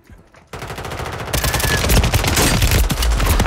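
Loud, rapid automatic gunfire from a video game erupts in dense bursts that build and continue steadily to the end.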